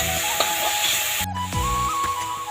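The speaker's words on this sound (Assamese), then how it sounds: "এয়া পিঁয়াজ আৰু আদা নহৰুৰ পেষ্ট অকণমান ফ্ৰাই কৰি লওঁ" Onion and ginger-garlic paste frying in a pan for a fish curry, a steady close hiss and sizzle with a few stirring scrapes, no talking.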